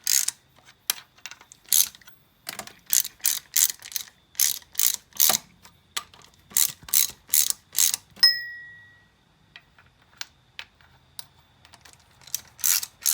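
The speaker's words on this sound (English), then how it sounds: "evenly tighten the cam down, little by little." Ratchet wrench clicking in quick bursts while tightening the cam caps on a Mk1 VW engine during a cam swap and valve adjustment, close and crisp with short pauses between runs.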